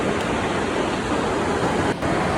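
Steady broadband roar of Papa Falls and Mama Falls, the twin Trafalgar Falls in Roseau, Dominica, heard close and continuous as one dense wash of falling water with no break.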